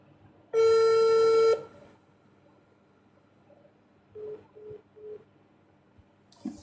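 One ringback tone of about a second sounds on an outgoing mobile phone call, followed by quiet with faint murmuring and a few short soft sounds.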